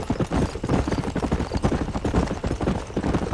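Horse hooves galloping in the Western video game Red Dead Redemption, a rapid, steady clip-clop rhythm running close and loud throughout, with a faint low rumble of motion beneath.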